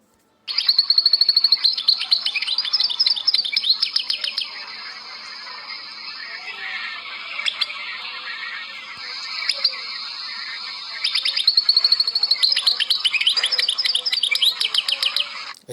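A songbird sings long Algerian-style trills in close, loud bursts, with fast repeated chirps rising into dense rolling phrases, a quieter stretch in the middle, then more trilling.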